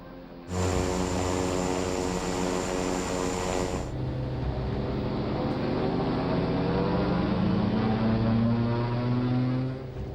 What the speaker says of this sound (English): Sounds like those two engines were operating at different power levels.